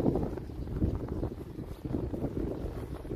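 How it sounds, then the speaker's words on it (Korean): Wind blows outdoors on an overcast day during a countryside walk, a low, gusty rumble buffeting the microphone in uneven surges throughout, with no talking. "바람은 좀 불고 있습니다."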